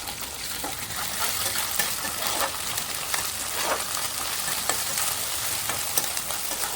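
Ginger garlic paste is stirred into onions and green chillies frying in a pan, giving a steady loud sizzle with scraping stir strokes at an uneven rhythm, close and continuous with no talk.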